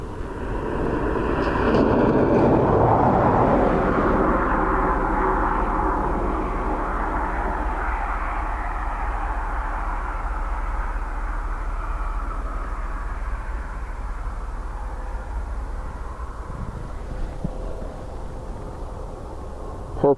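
Thai Airways jet arriving at Dublin Airport on a windy day, a loud broad engine roar that swells early, then holds steady as a long sustained rumble with no talk.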